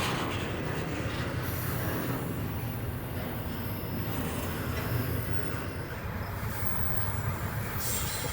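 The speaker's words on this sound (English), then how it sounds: "And just happened to be a train coming by." A freight train with a mid-train helper locomotive rolls past close by, a dense continuous rumble of wheels on rails with metallic squeal and clatter throughout.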